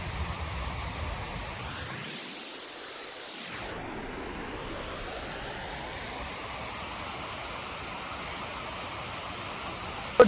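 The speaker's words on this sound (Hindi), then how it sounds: "बहुत जोर की बारिश हो रही है" Heavy rain pours down in a steady, dense hiss for about ten seconds, swelling into a brief whooshing rush near the start, with no voices.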